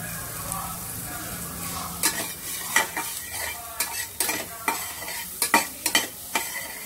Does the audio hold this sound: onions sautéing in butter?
yes